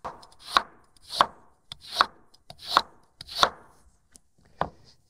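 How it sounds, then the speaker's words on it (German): A knife slices a carrot diagonally into rounds on a cutting board for an Asian-style stir-fry: six crisp, evenly spaced chops about every 0.6 seconds, close and clear with no talking. "Wenn ihr die schräg in Scheiben schneidet,"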